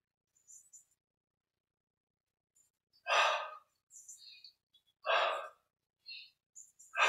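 Deep breaths during a yoga and Kriya meditation session, two long full-band exhalations standing out clearly in near silence, with faint short breaths and small sounds between them.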